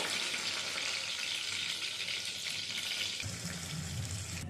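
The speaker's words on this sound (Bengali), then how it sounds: "মাশরুমগুলো লাল লাল করে ভাজা হয়ে গেছে এবারে তুলে নেব" Mushrooms fry in hot oil until browned, giving a steady, dense crackling sizzle throughout with a slight shift in tone near the end.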